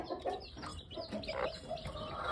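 An American Gamefowl hen clucks in a cage with her chicks. The soft, repeated clucks and chirpy calls come close and steady, with no talking.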